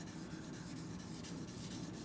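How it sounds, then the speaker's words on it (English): Sandpaper rasps back and forth by hand in quick, regular strokes on a Demko AD20S knife, close and steady, with no talking. "You're seeing how I do the sanding"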